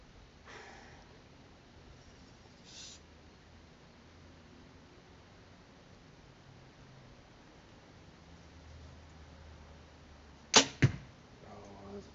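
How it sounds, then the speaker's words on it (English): Archery arrow shot from a bow during a gold-medal target session: a sudden sharp release and snap stand out near the end, followed by a second crack of impact, against an otherwise quiet, hissing background. "let's shoot this arrow"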